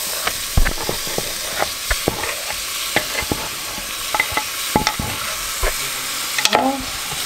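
Tomatoes sizzle and fry in a pan, with a steady hiss broken by frequent clicks and scrapes of stirring, close and fairly loud, with no talk.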